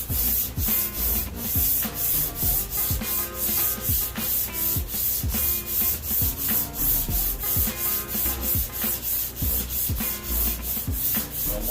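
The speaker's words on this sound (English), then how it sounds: "Just going to make some light rubbing passes" Light back-and-forth rubbing passes over a wood surface, a close rhythmic scratchy sanding sound repeating evenly about twice per second, no voices.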